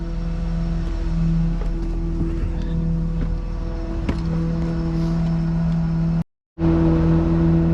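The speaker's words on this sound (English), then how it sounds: "Throwing some dirt under there to level it up." A Cat mini excavator idling and working while throwing dirt under a septic tank during an install, a steady diesel engine drone with a tonal whine and occasional clanks, close and continuous, briefly cut out near the end.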